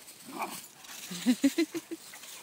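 Twiggy the dog lets out a quick run of five or six sharp barks, close and moderately loud, after a brief whimper and faint background noise.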